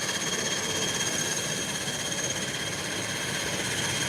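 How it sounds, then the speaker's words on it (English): An airliner with General Electric jet engines rolling down the runway on takeoff, making a loud, steady roar with a high whine, heard close by with no talking. "Hear the sound of that General Electric engines."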